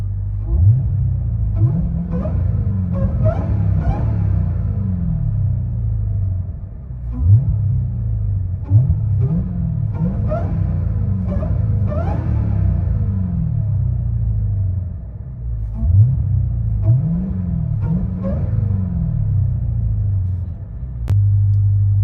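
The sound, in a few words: 2023 Dodge Charger Hellcat exhaust, valves closed, heard from inside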